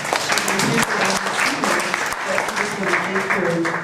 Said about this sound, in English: Let's give a round of applause for Linda Lamar.